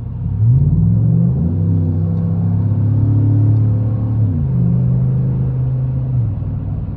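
A car pulls away hard after a turn, its engine climbing through the revs with audible gear shifts, a loud, close, steady rumble heard from inside the vehicle with no talking.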